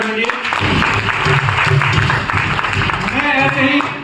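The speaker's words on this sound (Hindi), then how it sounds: "जोरदार ताली एक बार सर के लिए।" An indoor audience applauds at a gathering, a dense, steady clatter of clapping that swells in and holds for a few seconds before tapering.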